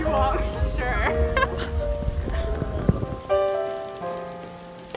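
Rain patters steadily on a surface, mixed with sustained tonal sounds and occasional sharp knocks, at a moderate, even level throughout.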